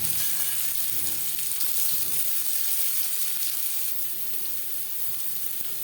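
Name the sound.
frying chopped onion in oil in a wok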